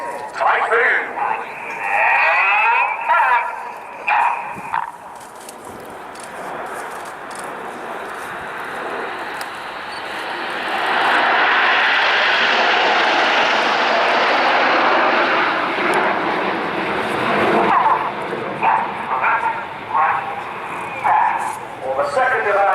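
Red Arrows display jets of the Royal Air Force performing a Typhoon formation pass at an air show, a loud roaring jet engine sweep that swells and fades, with a commentator talking over it.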